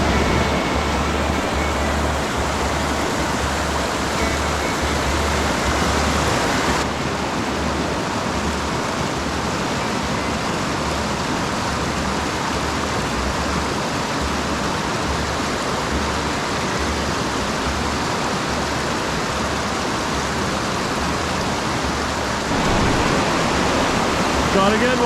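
Loud, steady rush of river water flowing past a canoe on the Lady Evelyn River in Temagami, a dense broadband roar that runs unbroken throughout with no voices.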